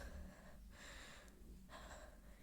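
A voice imitates heavy breathing, two slow, deep breath cycles with a gasping, airy rasp, close and quiet.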